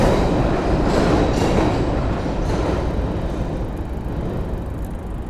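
A train rolls by right alongside on a Miami street at night, a loud, steady rumble with rail clatter that holds for several seconds and eases slightly toward the end.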